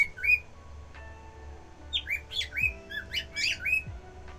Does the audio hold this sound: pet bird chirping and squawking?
yes